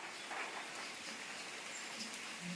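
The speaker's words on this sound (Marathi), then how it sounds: "मस्त आता पाऊस पण येतोय" Rain falls outdoors as a soft, even hiss that stays faint and steady throughout, with no voices.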